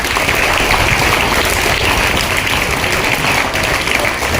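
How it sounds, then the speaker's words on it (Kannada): Loud, dense applause from a seated audience at a public gathering, steady and continuous throughout, with no individual voices standing out. "ಅವರ ಒಂದು ಗುಣಕ್ಕೆ ಒಂದು ಜೋರು ಚಪ್ಪಾಳೆಯನ್ನು ಮಾಡಿ"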